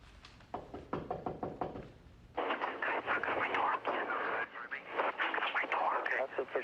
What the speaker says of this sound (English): That's the first one of us knocking on the door.